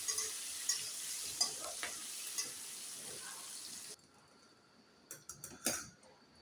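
Mixed vegetables dusted with turmeric are stirred in a hot pan, giving a steady sizzle with scraping strokes, then quieter, sharper stirring scrapes near the end.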